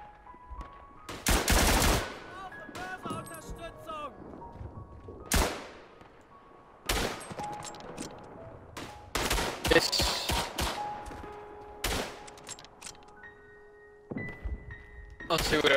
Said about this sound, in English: We're switching to MG fire to defend north.